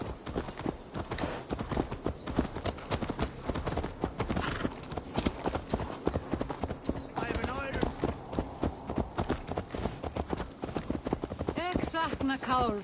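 A horse's hooves clip-clop steadily in Assassin's Creed Valhalla, a close and even rhythm that runs the whole time, while voices speak over it in places.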